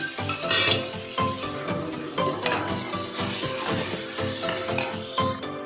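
Onions and carrots fry with salt in a pan for palak corn pulao, a steady sizzle under frequent stirring and scraping of a utensil against the metal pan, close and continuous.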